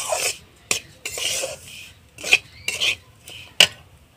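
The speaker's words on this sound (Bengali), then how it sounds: "দেখুন আমি হালকা হাতে ভেজে নিচ্ছি" Semolina toasts gently in a pan while a metal spoon stirs and scrapes it, making a series of close, uneven clinks and scraping rubs with brief pauses between strokes.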